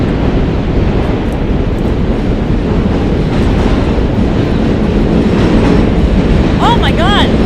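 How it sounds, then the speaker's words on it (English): A New York City subway train rumbles loudly right overhead on the Bowery in the Lower East Side, a continuous roaring clatter with metallic wheel squeals near the end. "That's the subway going right over us."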